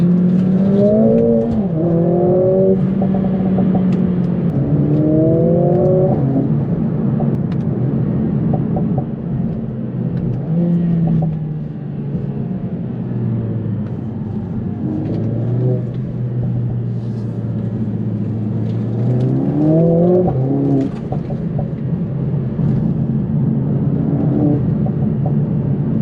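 A Mercedes-AMG A45 S engine on a night drive revs in repeated rising bursts after downshifts in manual mode, each rev climbing over a steady deep rumble from inside the car.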